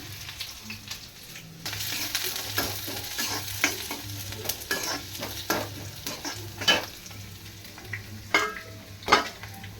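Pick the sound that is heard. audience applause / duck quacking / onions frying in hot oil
onions frying in hot oil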